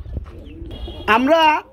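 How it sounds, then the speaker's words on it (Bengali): A Bombay pigeon at a pigeon market gives a short, fairly loud coo with a rising, warbling tone, heard close up after a brief stretch of low background noise. "নটটা ডাকতে আসছে পিছনে"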